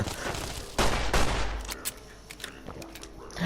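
Gunfire aimed at a robot in the game Fallout New Vegas comes as a few sharp, loud bursts early on, then scattered lighter shots and clicks over the remaining seconds.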